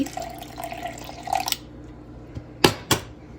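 Water splashes into a bowl of masala puri mixture with boiled potato, giving two sharp pouring bursts near the end after a quieter stretch of faint kitchen sounds.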